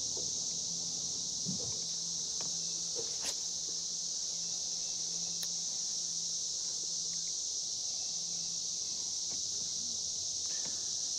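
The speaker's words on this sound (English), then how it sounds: "Some cicadas out in front of me." Cicadas buzzing outdoors as a constant high-pitched drone that stays steady throughout, with a few faint knocks and rustles underneath and no talk.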